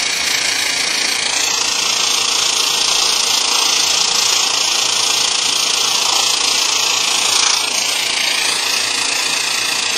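A Portawelder welding a ski base with weld rod gives a loud, continuous buzzing drone with steady mechanical vibration, close and unbroken for the whole stretch, with no voices.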